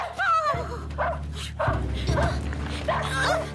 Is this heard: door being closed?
no